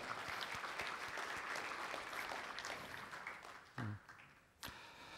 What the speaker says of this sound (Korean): 이런 벌런티어 분들께도 박수 부탁드리겠습니다.